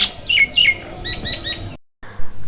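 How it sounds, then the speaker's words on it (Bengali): Several small birds chirp nearby in quick, repeated bright tweets, a short burst followed by a few more calls. "আমাদের খাওয়া দেখে এখানে পাখিগুলো এগিয়ে আসছে"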